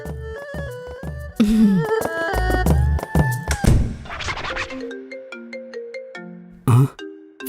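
A phone ringtone plays loudly and close as a bright electronic melody of quick stepped tones, with a few thumps and scratchy handling noises mixed in.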